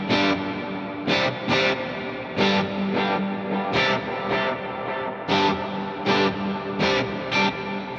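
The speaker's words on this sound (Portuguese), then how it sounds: "E nessa configuração aqui, eu desligo o reverb e ligo novamente." Distorted electric guitar played through an HX Stomp with effects, its reverb switched off and back on, strummed chords ringing in repeated bursts with sustained tails between them, loud and alone.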